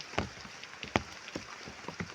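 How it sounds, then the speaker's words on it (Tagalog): Light rain pattering on a surface, with scattered drops and soft crackly taps over a quiet, steady background hiss. "Ayan mga Pinoy, inabot na po tayo ng ulan."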